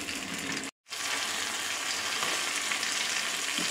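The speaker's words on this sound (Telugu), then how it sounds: "ఇప్పుడు ఇందులోకి వెల్లుల్లిపాయలు, పచ్చిమిర్చి, అలాగే ఒక 4-5 ఎండుమిర్చి, వీటన్నిటిని బాగా మగ్గించేస్తున్నాం." Garlic, green chillies and a handful of dried red chillies fry in hot oil for a leafy chutney, a loud, dense, continuous sizzle broken by one brief cut to silence before carrying on unchanged, with no talk.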